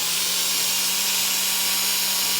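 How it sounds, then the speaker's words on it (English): A cordless drill spins half a cotton swab coated in metal polish inside a Yamaha TTR250 part, giving a steady, close, hissing whir with a constant motor hum that runs unbroken throughout. "I have a Q-tip that I cut in half, inserted into my cordless drill."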